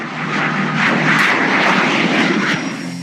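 FA-50 and F-16 fighter jets fly overhead during a combined air force training exercise, their engines a loud, steady broadband roar that swells and lingers for a few seconds without any voices.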